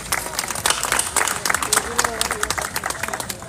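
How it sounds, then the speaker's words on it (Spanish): An audience applauds Don César at a book launch in La Vega, with dense, close clapping that runs throughout as voices call out over it. "démosle un aplauso a Don César"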